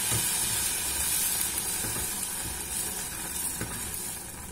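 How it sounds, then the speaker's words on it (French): Boiling water is poured over coquillettes pasta in a pot while it is stirred, a continuous close rushing hiss with faint clinks throughout. "Maintenant, je vais venir mettre de l'eau bouillante sur mes pâtes,"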